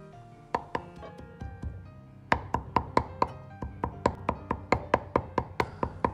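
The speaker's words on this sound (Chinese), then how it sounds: "再切成大小均匀的肉丁" A kitchen knife chops meat into small, even dice on a cutting board for a tomato and enoki mushroom dish, sounding as a long run of sharp, close knocks that start uneven and settle into a fast, steady rhythm.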